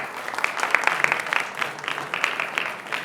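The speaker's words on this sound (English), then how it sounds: "Let's give these students a round of applause." An audience at a varsity high school quiz competition claps steadily for about three seconds, with moderate, even applause and no talking.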